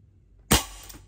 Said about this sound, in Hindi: चलिए फायर करके देखते हैं।